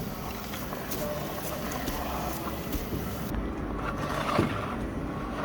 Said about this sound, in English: I don't know if you can hear it, it's a scraping noise.